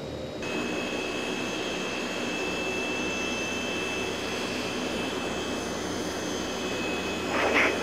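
A continuous, loud engine drone and high whine of a Fokker F27 turboprop rolling for takeoff in the Prepar3D flight simulator, steady throughout with a brief swell at the end, no talking.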